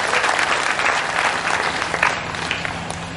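A dense crowd at a religious gathering in Ambikapur, Chhattisgarh applauds steadily to welcome the chief minister, a continuous wash of many hands clapping with no pauses.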